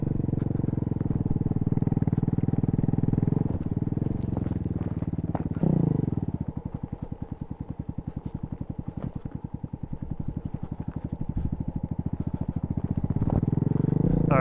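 Evoque 250cc full-size dirt bike ridden off-road, its single-cylinder engine running steadily near the mic, dropping to a pulsing low putter midway and then revving back up.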